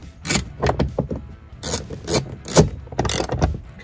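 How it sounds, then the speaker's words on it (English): A 10 mm bolt being tightened with a ratchet inside a Ford F-150 cab during an overhead console switch panel install, giving several close, loud bursts of quick clicking separated by short pauses. "Reinstall our 10 millimeter bolts."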